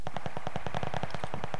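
Gunfire in the video game Champion Hill: a rapid, evenly spaced string of automatic shots, moderately loud and continuous, with no talking.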